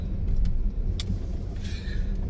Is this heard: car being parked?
yes